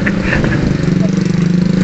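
A steady, loud motorcycle engine drone runs throughout, rumbling nearby without pause, with faint voices barely audible beneath it.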